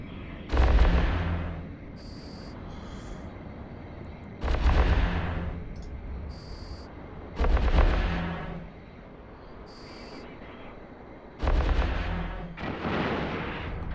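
Heavy gunfire from ships in the space game Eve Online, with four loud, booming volleys spaced a few seconds apart, each a sharp blast that rolls off into a rumbling tail over steady low background noise.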